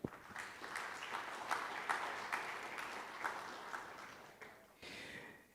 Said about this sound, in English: Please give big round of applause.